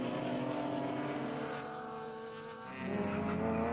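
Race cars at speed on a circuit during a BMW club race, a steady loud engine drone that dips briefly then swells again as cars pass, with no voices.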